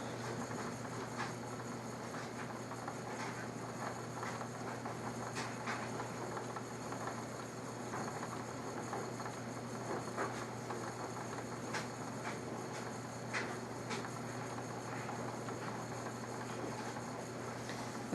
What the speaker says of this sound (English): for some reason it feels like my wheel is going really fast.